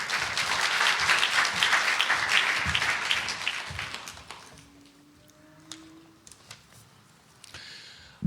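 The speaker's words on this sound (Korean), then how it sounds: "우리 할렐루야로 박수로 환영하겠습니다" A church congregation claps warmly to welcome a pastor. The applause is full and loud for about four seconds, then fades into a quiet room with a few scattered claps.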